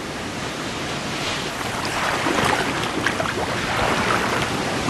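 Ocean waves breaking in steady surf, a continuous broad wash of water with wind noise on the microphone that swells slightly louder toward the end.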